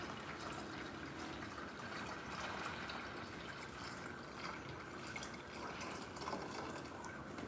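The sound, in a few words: water jug being filled with water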